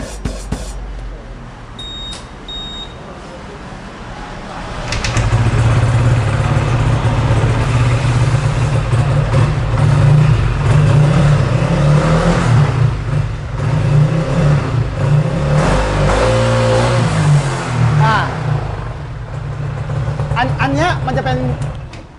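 A modified car with a tuned, street-legal exhaust idles, then settles into a loud, steady low engine rumble with slight revs, while people talk over it.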